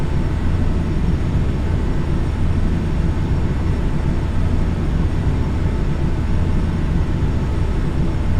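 Jet engines of a Bombardier CRJ700 in Flight Simulator X drone loudly and steadily during the climb, a dense, unbroken low roar with no pauses and no speech.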